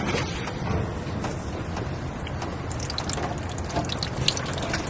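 Water poured over a car headlight lens, a steady broadband splashing and trickling that runs continuously at moderate loudness, with a few brighter drip and splash accents, no voices.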